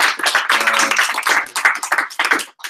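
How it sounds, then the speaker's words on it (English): A presentation audience gives a short round of applause, a dense burst of hand claps that thins out and stops. "I think another round of applause"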